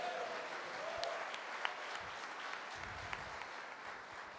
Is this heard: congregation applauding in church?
yes